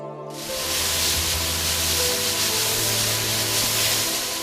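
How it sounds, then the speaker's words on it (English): A loud, steady hiss of pesticide spraying over grape vineyards in Nasik starts abruptly and continues without a break, like a powerful mist sprayer running nearby. "It is pesticides being sprayed on grape vineyards in Nasik."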